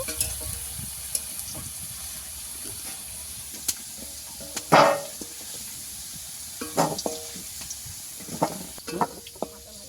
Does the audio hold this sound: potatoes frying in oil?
yes